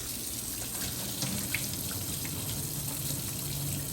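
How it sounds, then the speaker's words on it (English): A kitchen tap runs steadily into a sink to rinse mung beans, a continuous close hiss and splash of water with faint shifting gurgles throughout. "And then we're going to go ahead and rinse it."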